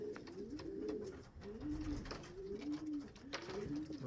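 Racing pigeons coo repeatedly outside a loft in Lithuania, a steady cycle of soft rolling calls from several birds close by, over a faint outdoor background.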